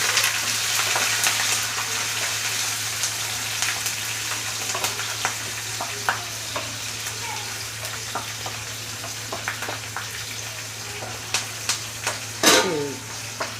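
Garlic, curry leaves and green chillies sizzle steadily in hot oil for lemon pickle, a continuous close frying hiss with scattered crackles and pops and occasional stirring scrapes.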